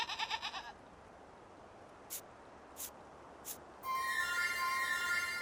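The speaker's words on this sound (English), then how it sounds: "Here comes the goat." A goat bleats in a short wavering burst near the start, followed by a few faint clicks and then a bright tonal sound, with no talking.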